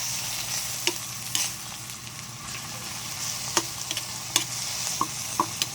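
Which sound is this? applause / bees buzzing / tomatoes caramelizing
tomatoes caramelizing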